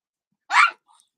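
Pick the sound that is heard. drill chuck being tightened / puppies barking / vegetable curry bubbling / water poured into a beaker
puppies barking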